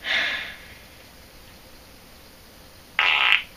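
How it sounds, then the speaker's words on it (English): A short fart noise, played as a classroom prank, comes in two quick bursts: one at the start and a louder, sharper one near the end, with a quiet stretch between them. "you farted!"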